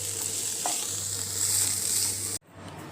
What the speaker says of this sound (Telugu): ఇప్పుడు కొత్తిమీర కొంచెం వేగింది కదా, ఇప్పుడు దీనిలో చింతపండు వేసుకుందాం